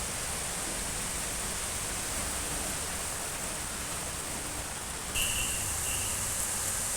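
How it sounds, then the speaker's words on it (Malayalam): Heavy rain with wind, a dense steady wash of noise close around, unbroken throughout, with a faint high tone briefly near the end. "നല്ല കാറ്റും മഴയാണ്."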